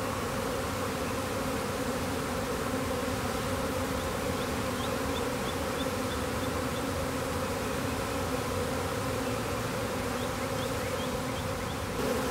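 A honey bee swarm hums in a dense, steady drone as the bees march and walk into a hive body, loud and close throughout with no pause.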